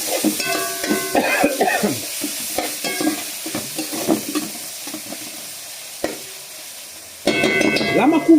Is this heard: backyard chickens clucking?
no